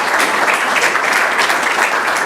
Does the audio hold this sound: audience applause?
yes